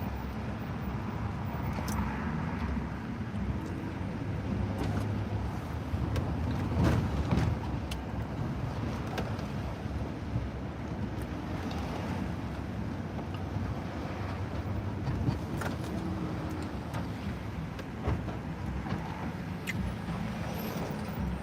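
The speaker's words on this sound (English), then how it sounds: "Good old New York traffic." New York street traffic rumbles continuously, with vehicles passing and a dense wash of engine and road noise at moderate loudness and no voices.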